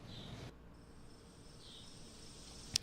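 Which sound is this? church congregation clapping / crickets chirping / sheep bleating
crickets chirping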